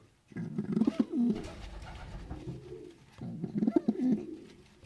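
Young pigeons coo in a loft, two clear bursts of low throaty cooing close by, separated by a quieter stretch of soft rustling and murmuring coos.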